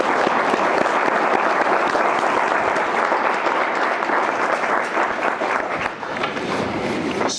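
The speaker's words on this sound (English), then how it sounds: "let's give her a round of applause" Loud, sustained applause from a conference audience on animal welfare and wildlife management, dense clapping from many hands filling the room steadily throughout, with no one speaking.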